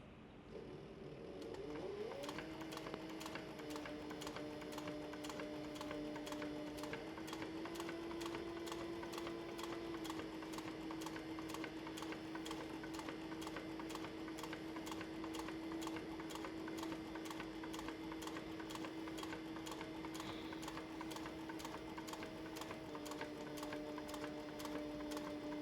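A sewing machine stitching the side seam of a canteen purse, a rapid, steady mechanical whir that runs continuously and quietly from start to finish.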